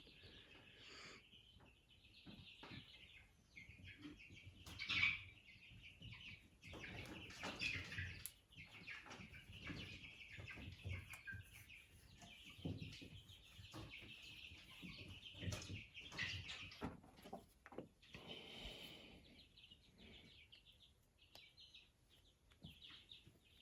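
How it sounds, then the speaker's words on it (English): Chickens cluck and small birds chirp continuously outdoors near a Ford F-Series truck being worked on for a power steering leak, a busy, moderately loud farmyard chorus with no talking. "Birds are getting a little crazy over there."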